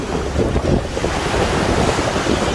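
Sea waves churn and wind buffets the microphone on a rough day near a volcano-view shore, a loud, constant rush of surf and gusting air with no voices.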